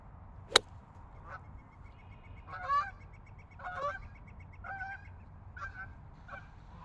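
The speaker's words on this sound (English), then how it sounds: "I was so scared I was gonna hit that goose." Goose honking repeatedly beside a golf course fairway and water, a series of loud nasal calls over low outdoor rumble, with a sharp club strike on a ball near the start.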